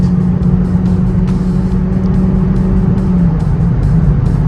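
A 2015 Mazda Speed 3 third-gen engine pulls hard in third gear after a downshift, a loud steady drone heard from inside the car with faint ticking over the engine note.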